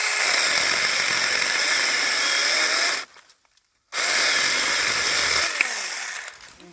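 A small handheld mini chainsaw whines loudly while cutting wood, pauses briefly in near silence, then revs and cuts again before trailing off.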